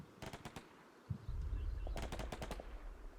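Bursts of automatic gunfire from the video game Combat Mission: Black Sea, a quick volley of sharp shots followed by a second rapid string over a low rumbling explosion-like roar.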